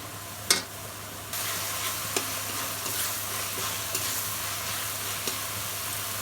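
Spice paste for goat head curry fries in a pan with a steady, close sizzle, and a few sharp clicks and scrapes come from stirring.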